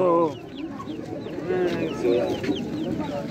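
A hen with her chicks clucks at a market, giving short repeated clucks mixed with high chick peeps, close by, with market chatter faintly beneath.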